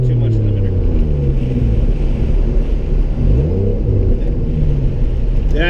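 A Toyota 1JZ VVT-i engine swapped into a Nissan 240SX S13 idles with a steady, loud low rumble heard from inside the car, with a brief rise in pitch near the middle; people talk under it.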